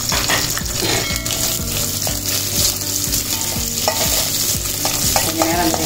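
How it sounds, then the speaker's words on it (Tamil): Chopped shallots sizzle steadily in hot oil in a pan while a spatula stirs them, with a constant frying hiss and repeated scraping strokes heard up close. "சேர்த்து நல்லா வதக்கி விடணும்."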